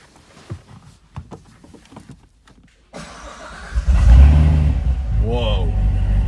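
A 2015 Corvette Z06 engine cranks and fires up at about three seconds, settling into a loud, steady rumble close by, with speech heard before the start.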